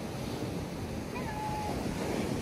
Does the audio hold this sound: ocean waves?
yes